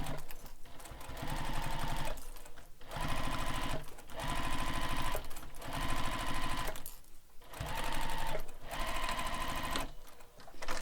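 A sewing machine stitches a bag seam in quick bursts, its rapid mechanical clatter running for a couple of seconds at a time between short pauses.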